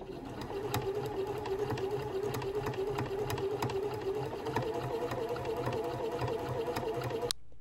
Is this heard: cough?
no